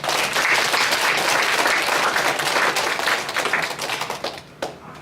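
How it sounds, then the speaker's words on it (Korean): A church congregation bursts into loud, dense applause during a Sunday sermon, a sustained roar of many hands that thins out and fades near the end. "우리 젊은 사람들에서 박수 한번 보내주시기 바랍니다."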